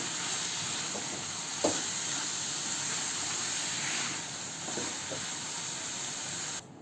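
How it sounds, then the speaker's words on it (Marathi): Chicken coated in ground masala stir-fried over a high flame, giving a continuous hiss and sizzle with a few soft stirring knocks, close and fairly quiet, no talk. "चिकन वाटणात मिक्स करून परतून घेऊया आणि मी फास्ट गॅसवरच परतते चिकन."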